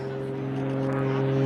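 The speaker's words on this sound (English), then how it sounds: "hovering on the propeller." An Extra EA-330 aerobatic plane hangs nearly stationary on its propeller at an airshow, a steady, strained engine and prop drone with a strong low hum, rising slightly in loudness over a brief stretch.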